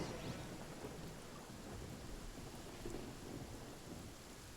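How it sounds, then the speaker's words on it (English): A thunderstorm in the Genshin Impact video game, a steady wash of heavy rain hiss under low rumbling thunder, dense and continuous throughout at a modest level, with no voices heard. "Uh-oh, lightning storm."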